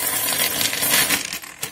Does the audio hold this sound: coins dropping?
yes